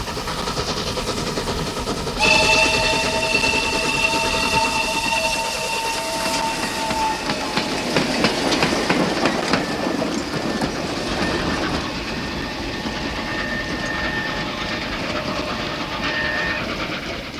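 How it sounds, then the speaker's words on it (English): A Spanish RENFE XMZA 480 steam locomotive rushes past a country station on a fast freight train: whistle-like tones open, then a loud, rumbling rail clatter sweeps through and gradually fades. "Rushing through on a fast freight is another XMZA 480."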